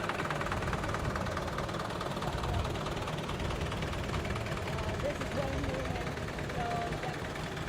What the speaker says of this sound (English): driving a 1935 McCormick Deering WD-40 tractor. It's a diesel.